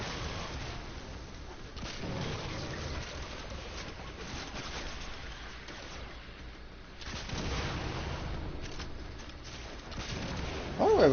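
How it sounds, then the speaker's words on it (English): Grenade launcher firing in Warframe, with a few muffled, dull booms and blasts rising out of a rumbling background of combat noise, spaced several seconds apart and fairly subdued. "Switch back to the grenade launcher."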